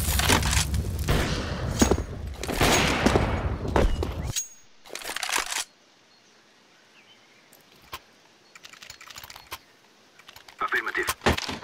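Gunfire in the video game Counter-Strike: Global Offensive, with loud bursts of shots in the first seconds, then a quiet stretch broken by a few sharp isolated clicks and a short burst near the end.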